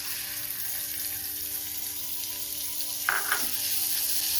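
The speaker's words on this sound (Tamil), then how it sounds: "அந்த வெங்காயத்தை போடுங்க." Onions sautéing in hot oil in a kadai hiss steadily and softly up close, with a brief clatter of stirring near the end before the sizzle carries on.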